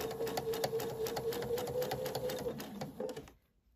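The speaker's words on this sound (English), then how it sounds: "just start sewing it back on" Sewing machine stitching binding onto fabric edges, a steady close rapid rhythmic whirring with a faint high whine that runs for about three seconds and then stops.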